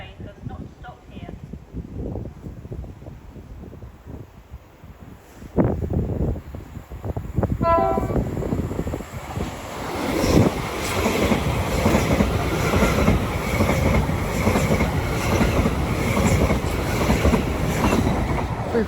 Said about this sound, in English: Please stand clear of the edge of the platform as the approaching train does not stop here.